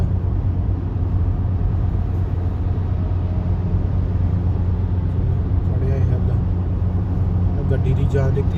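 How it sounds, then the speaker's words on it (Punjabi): A car engine strains at around 4000 RPM on a steep highway climb between Vancouver and San Francisco, heard from inside as a steady, loud, low roar with road and wind noise that never lets up. "ਦੇਖੀ ਰੌਲਾ ਪੈਂਦਾ ਉਹ ਇੰਜਣ ਦਾ ਇਹਦਾ।"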